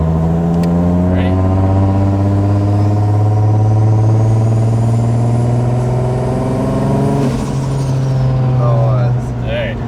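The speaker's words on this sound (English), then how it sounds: "Now I'll just do a little like left foot brakey so you guys can hear the spools." Rising engine drone from a 1JZ fitted with a single turbo conversion, held under load with left-foot braking so the turbo spools, loud and close with steady climbing harmonics and a brief hiss near the end; a voice talks faintly underneath.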